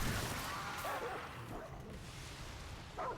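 Dogs bark and yip in the Remnant video game, several quick overlapping calls at moderate level over steady background game sound and noise, with a brief louder burst near the end.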